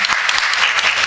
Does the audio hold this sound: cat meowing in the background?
no